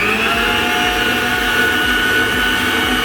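Pink cupcake sponge batter, tinted with pink colouring, is mixed with a steady, loud, close motor whine that runs without pause and carries a faint rhythmic churning underneath.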